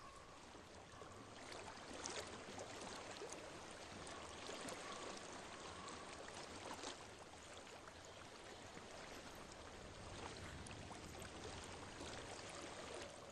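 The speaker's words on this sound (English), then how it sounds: "I hear water." A stream flows steadily in Hellblade: Senua's Sacrifice, a dense, even rush of water that stays loud and unbroken throughout, with no voices over it.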